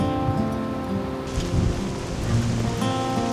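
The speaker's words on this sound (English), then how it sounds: "Outside it's pretty much blowing a complete gale." A storm gale drives rain against the outside of a polytunnel, a dense, continuous patter and rushing wash with gusty swells and low rumbles, close and loud.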